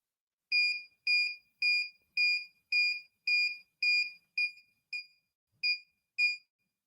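An alarm buzzer on an embedded device under test sounds eleven short, bright beeps at an even pace, then a couple more after a brief gap. Each beep is clear and alone against silence.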